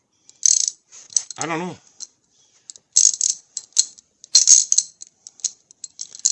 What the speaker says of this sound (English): This ratchet has just been awesome for me.